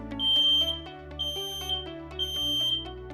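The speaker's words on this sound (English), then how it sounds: "Check smoke and carbon monoxide alarms" A smoke alarm chirps in three evenly spaced pairs of high, piercing beeps over a steady low tonal background, fairly loud and close.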